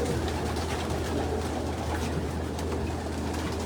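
Pigeons in a loft housing hundreds of birds coo softly amid a dense, continuous murmur of wings and rustling, with a steady low hum underneath.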